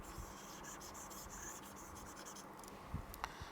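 Pen writing on paper while a Poisson distribution formula is noted down, a steady close scratching and rubbing texture with a few soft taps near the end, no voices.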